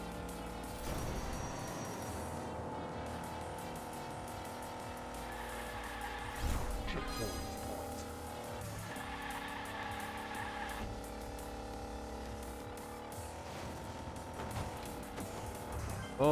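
A Hot Wheels Unleashed toy car races in the video game, with a steady engine drone, shifting whines and skidding tire squeals that rise sharply midway, layered over game music with no talk.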